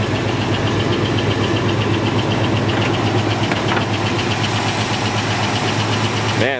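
A 429 Cadillac V8 idles under the hood of a 1931 Willys hot rod, a loud, close, steady rumble with an even, lumpy pulse that holds throughout.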